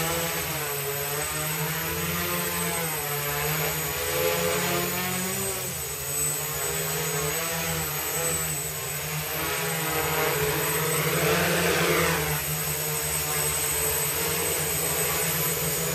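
Homemade quadcopter drone hovering steadily in cold outdoor air, its rotors producing a loud, continuous high buzz with layered whine that rises and shifts pitch slightly as it turns side to side, no talking.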